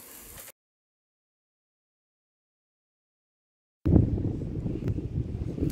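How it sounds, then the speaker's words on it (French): Gusty wind buffets the microphone in the Scottish Highlands, a low, rough rumble that starts abruptly after a stretch of silence and keeps roaring steadily. "il y a un peu de vent, donc j'espère que vous m'entendez"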